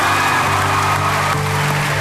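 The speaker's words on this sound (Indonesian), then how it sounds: "Kita tepuk tangan dulu dong buat mereka." An audience at an Indonesian campus TV show taping applauds in a continuous, dense wash of clapping with a faint hum underneath and no talk on top.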